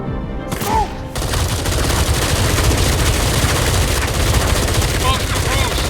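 Sustained automatic gunfire roars in the Batman: Arkham Shadow VR game, a dense rattling barrage that starts abruptly after a short lull and keeps going loud and close.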